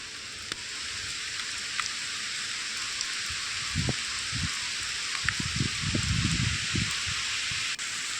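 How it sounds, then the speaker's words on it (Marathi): Heavy rain falls in Kandati valley, Satara, as a steady broad hiss of downpour, with scattered low thumps and rustles nearby. "पण पाहतोय आता कांदाटी खोऱ्यात पावसानं हाहाकार माजवलाय।"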